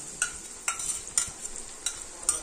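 Onion-laced spice paste of green chilli, dried chilli, ginger and garlic being stirred and fried for fish kalia: five sharp spoon scrapes at even intervals over a faint, low sizzle, close up with no talk.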